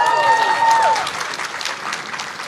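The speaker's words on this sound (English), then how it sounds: "Now, why was everybody cheering for him?" An audience at an event with Barack Obama cheers and applauds for a young man who was called on to ask a question. The clapping and cheering run loud and steady, then ease slightly toward the end.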